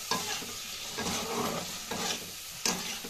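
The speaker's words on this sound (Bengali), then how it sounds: "এবার আমি এর মধ্যে চিকেনগুলো দিয়ে দেবো।" Pre-fried chicken pieces for chilli chicken go into a hot pan and are stirred, a steady loud sizzle broken by repeated scraping stirs about once a second, up close with no voices.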